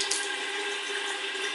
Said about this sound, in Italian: Lavo il viso solamente con acqua fresca